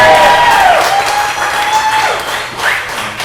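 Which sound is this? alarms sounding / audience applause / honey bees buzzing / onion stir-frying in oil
audience applause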